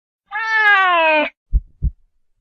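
A single loud, clear cat meow from a video game, long and slightly falling in pitch, followed by two short low thumps, with silence around them.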